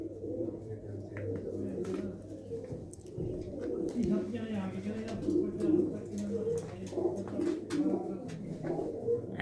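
Pigeons coo in low, repeated rolling calls throughout, close by in a pigeon loft, with a continuous low hum and a murmur of voices in the background.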